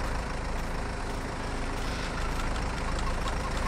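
A tractor engine in the farming game Farming Simulator 22 rumbles steadily at a low, even idle, heard alone and fairly quiet throughout.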